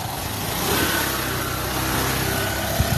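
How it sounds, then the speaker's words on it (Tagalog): A motorized tricycle on a long bridge in Camarines Sur, its mid-pitched engine humming and revving steadily nearby, with rumbling road and wind noise throughout. "May dumadaan palang tricycle dito."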